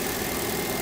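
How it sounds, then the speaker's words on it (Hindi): Car engine idling steadily during a crankshaft position sensor check on a car with long cranking and rough idle, a continuous close low hum with faint vibration, no talking. "इंजन मेरा अभी भी स्टार्ट है"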